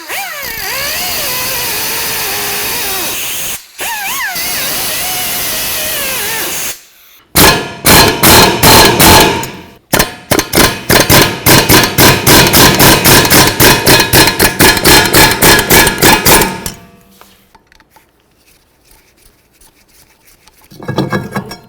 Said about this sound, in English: we'll use a chisel and just try to loosen it up